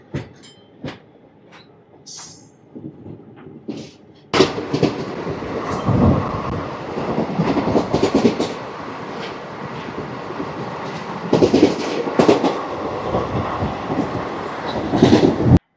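Circar Express train 17644 running on the rails, heard from on board as a steady, loud rumble with clattering, after a quieter, sparser opening few seconds.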